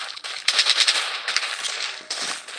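Machine gun fire in the video game Blood Strike rattles in loud, rapid bursts, close and sharp, with short gaps between volleys.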